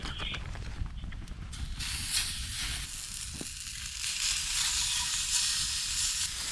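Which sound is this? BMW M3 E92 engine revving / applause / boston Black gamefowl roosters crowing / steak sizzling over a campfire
steak sizzling over a campfire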